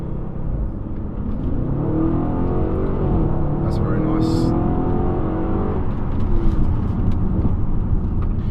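An Audi RS4 engine hums steadily from inside the cabin as it drives along, with a person briefly speaking over the low rumble.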